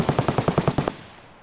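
Rapid automatic AK rifle fire in Escape From Tarkov, a burst of about nine evenly spaced loud shots over under a second, then a fading echo tail.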